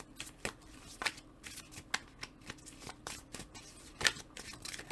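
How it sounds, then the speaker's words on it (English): Tarot cards being shuffled by hand, soft repeated riffling and slapping of the deck in irregular bursts, close and quiet with no talking. "I'm going to keep shuffling."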